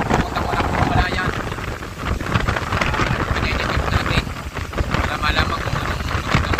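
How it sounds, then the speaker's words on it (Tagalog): Strong wind blows across the sea, buffeting the microphone with a constant loud roar and gusty surges that never let up. "Ang lakas ng hangin."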